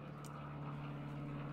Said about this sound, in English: Sorry, super noisy plane.